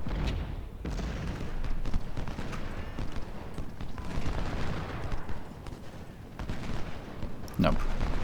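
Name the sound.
infantry musket volley in Ultimate General Civil War video game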